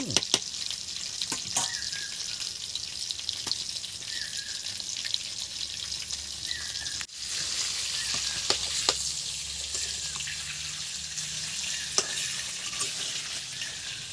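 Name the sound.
potatoes frying in fish oil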